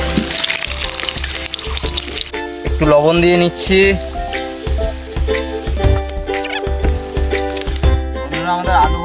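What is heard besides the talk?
potatoes frying and sizzling in oil in a wok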